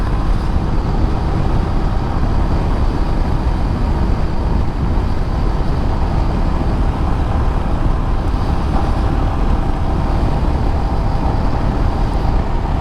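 A Himalayan motorcycle ridden off-road near marshland, its engine giving a steady, loud rumble with continuous wind and road noise throughout, no voices.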